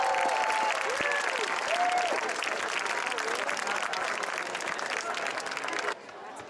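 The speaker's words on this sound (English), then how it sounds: "One last final round of applause for our CIF and national champion" Sustained applause and cheering from a crowd at a high school girls beach volleyball national championship celebration, loud and continuous, then cutting off abruptly near the end.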